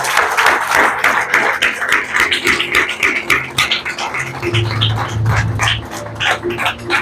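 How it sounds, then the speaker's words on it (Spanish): A church congregation claps in praise of the Lord, a dense, loud run of clapping lasting throughout, with a low hum of voices or instruments beneath it toward the end. "Den un aplauso al Señor."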